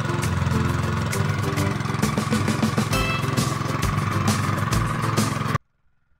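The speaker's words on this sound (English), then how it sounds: "It's powered by the Honda GX200 engine, which ensures both performance and reliability." A Honda WP20H high-pressure water pump driven by a Honda GX200 engine runs steadily at a loud, even drone with a buzzing, mechanical texture, close up, then cuts off abruptly near the end.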